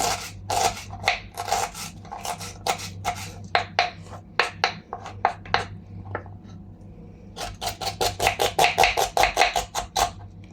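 Onions are sliced with a knife on a board in quick bursts of crisp cutting strokes, with pauses between runs and a fast rhythmic flurry toward the end, close by and without talk.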